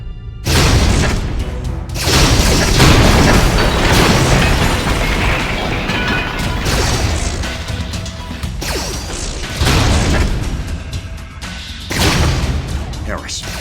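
Space pirate ships open fire in a planetarium show, with loud, continuous booming explosions and crashing blasts in several heavy waves.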